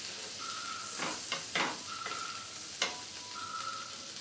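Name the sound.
butter sizzling in a pan on the gas stove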